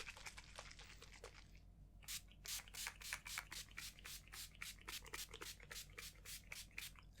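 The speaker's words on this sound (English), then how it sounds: "And a generous spritz." Makeup setting spray misting from a pump bottle in a quiet room. About a dozen short, evenly spaced spritzes follow a few softer rubbing sounds, close and fairly faint.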